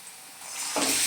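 Ginger-garlic paste goes into a pan of browned onions for a potato and egg curry, starting as a faint hiss that swells into a louder sizzle as the paste hits the hot oil.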